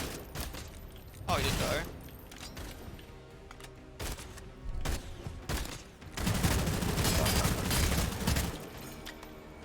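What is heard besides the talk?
Tommy gun firing in the video game Sunless Skies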